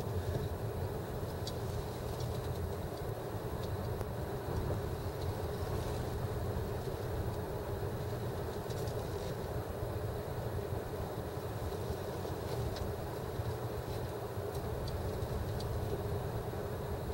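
A 2000 Subaru Legacy Outback shaking as it drives with the throttle released, a steady close rumbling drone with rattly low vibration running unbroken throughout, no talk.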